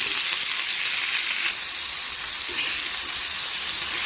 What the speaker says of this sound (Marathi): तर असं भाजून घ्यायचं, सारखं त्याला हलवत राहायचं